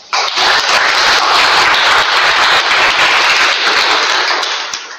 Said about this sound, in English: let's welcome them with a huge round of applause.